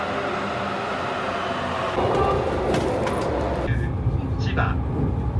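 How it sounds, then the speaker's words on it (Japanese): A rapid train arrives at a station in Chiba on the line toward Tokyo, a steady rumble that swells as it pulls in over platform ambience, with a brief higher squeal near the end. "まもなく快速電車が到着します。"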